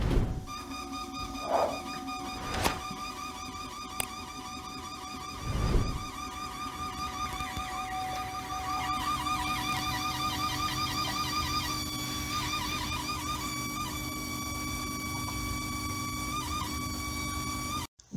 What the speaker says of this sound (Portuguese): esse ruído aí se deve à bomba de alta pressão